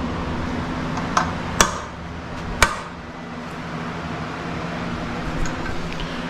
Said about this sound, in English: he's actually staking the plate on the oil pump cover so those bolts won't rotate out